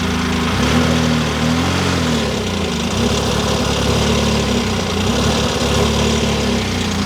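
A Jaguar XJ220 supercar engine idling while it warms up, a loud, steady low rumble with a slightly uneven burble that stays close and constant throughout.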